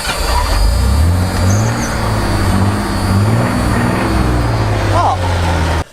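An old Ford inline six-cylinder engine in a pickup truck hauling against a Ram in a tug-of-war, droning loud and steady under heavy load for the whole stretch with a deep, continuous rumble.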